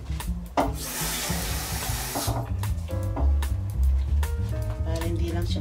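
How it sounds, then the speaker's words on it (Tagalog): Water splashes from a tap into an emptied can of coconut milk while laing is being made: a brief, close rushing pour at the start that fades under other kitchen sounds and tones. "Lagyan po natin ng konting tubig kasi sayang po yung gata."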